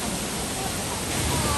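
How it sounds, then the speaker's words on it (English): A waterfall on a guided hike near Asheville roars as a steady, even wash of rushing water, constant and fairly loud with no breaks. "This is our first waterfall stop."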